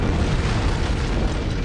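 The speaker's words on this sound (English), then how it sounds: "I guess an antimatter charge" A dense, sustained rumbling roar fills the space, like the aftermath of an antimatter charge detonating aboard a ship in Halo: CE, steady and loud without distinct separate blasts.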